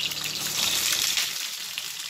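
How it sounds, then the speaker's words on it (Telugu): Tindora (ivy gourd) pieces sizzle in hot oil over a medium flame for an Indian onion-masala stir fry. The steady broadband frying hiss and crackle runs throughout, close and fairly loud, with no talking. "ఇప్పుడు మీడియం ఫ్లేమ్లో మనం ఫ్రై చేసుకుంటే ఈ దొండకాయ ముక్కలు బాగా వేగుతాయండి"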